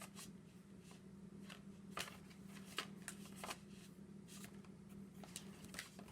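Game cards from Dice Throne Adventure are flipped and shuffled through by hand while hunting for a boss card, giving soft, quiet papery riffles and flicks in a close, irregular rhythm.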